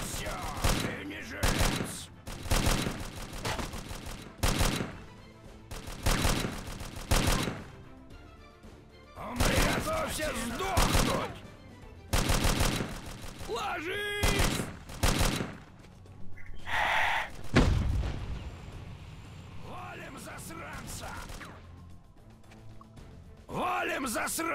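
Weapon fire in the sci-fi shooter Precursors: repeated bursts and single shots crack through a busy game mix, with explosions, impacts and shouted in-game voices alongside.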